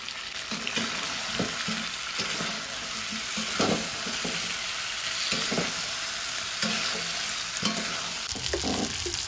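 Potatoes are sautéed in a pan, giving a loud continuous sizzle with repeated stirring scrapes and knocks throughout, close up and with no talking.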